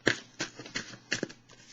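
Tarot cards are shuffled and drawn in a quick series of soft, close riffling bursts, about five in a rhythmic run, with no talking.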